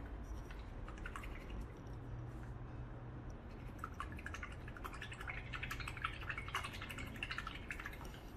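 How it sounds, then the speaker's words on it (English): An acrylic paintbrush is swished and rinsed in a cup of water, giving soft, close splashing and dripping sounds that come in small bursts with no talking. "all right, wash your brush out now."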